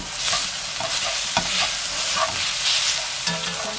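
Beef and eggplant stir-fry in a well-coated pan over medium heat with a sprinkle of pepper, giving a steady loud sizzle and repeated scraping, clacking spatula strokes, with no voices.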